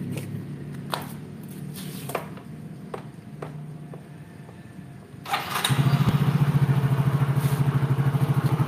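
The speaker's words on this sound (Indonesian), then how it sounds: "masih halus ya, mesinnya masih halus" A Yamaha Soul GT 115 scooter engine starts up close by after a few faint knocks, then settles into a loud, steady, even idle.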